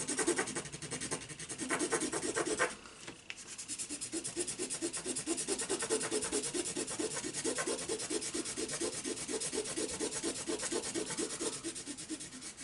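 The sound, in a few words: rubbing a rub-on transfer onto a page with a stick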